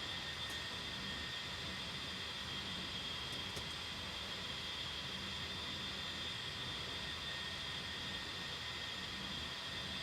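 Jet engine of an aircraft in a flight simulator game, heard as a steady broad roar with a high whine on top, constant and unbroken throughout; no talking.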